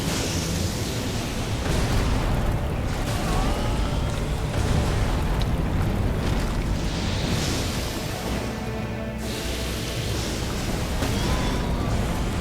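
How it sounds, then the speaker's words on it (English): A boss in the video game Elden Ring sets off follow-up explosions, a dense barrage of loud booming blasts and crackling bursts rolling almost continuously, one after another. "he likes his follow-up explosions"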